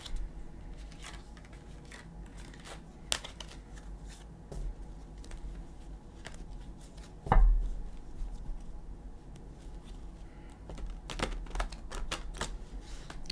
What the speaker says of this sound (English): I'm going to have to do a lot of shuffling.